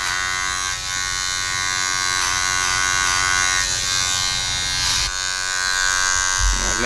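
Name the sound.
hair clippers cutting a taper fade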